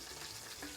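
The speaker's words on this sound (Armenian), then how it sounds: "Ահա, խավարտը ոնց ենք տապակում" Eggplant fries in a pan with a close, crackling sizzle that stays steady for a brief moment.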